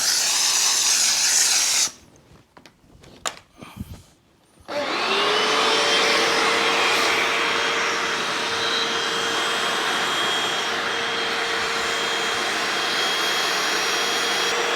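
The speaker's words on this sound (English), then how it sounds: "And this steam's not leaving the surface too wet" Steam cleaner running on the upholstery of a 2007 Subaru WRX, a loud steady hiss and suction roar that cuts out briefly, then resumes continuously and close.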